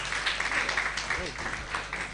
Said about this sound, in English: let's clap for them if we did enjoy the debate